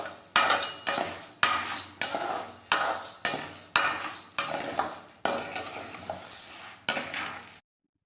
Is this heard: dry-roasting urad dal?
yes